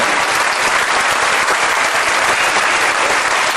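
Ankara theatre audience applauding steadily and loudly for the whole stretch, a dense wash of clapping with no break.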